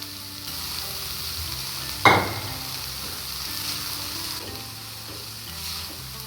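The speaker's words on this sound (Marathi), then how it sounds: "ती आपण आता ह्याच्यात घालून घेऊया आणि छान अशी आपल्याला परतून घ्यायची आहे" Fenugreek leaves with tomatoes sautéing in a pan give a steady, soft sizzle, with one sharp scrape or clatter near the two-second mark and no voices.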